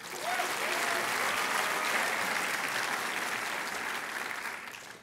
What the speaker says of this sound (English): Applause for you, Barry.